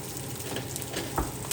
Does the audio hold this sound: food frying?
yes